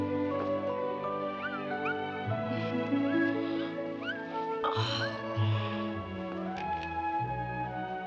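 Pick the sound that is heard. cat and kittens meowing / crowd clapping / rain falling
cat and kittens meowing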